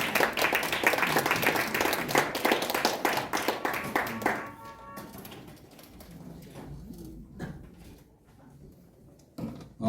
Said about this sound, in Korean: 뜨겁게 환영의 박수 한번 주십시오